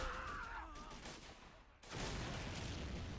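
Dense machine gun fire rattles in a WW1 video game during a French charge at Fort de Vaux, a thinner volley giving way after a brief dip to a louder, sustained burst of crackling shots with faint voices beneath.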